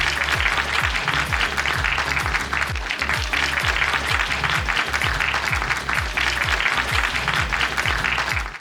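An audience claps loudly and continuously at a dance performance event, a dense, steady wash of many hands close by that continues throughout with no voices.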